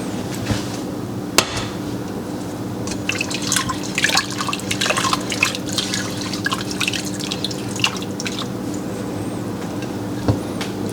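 Tap water runs over a canning funnel being rinsed in a sink while preparing to pressure can peppers, a steady splashing stream broken by clinks and knocks of the funnel.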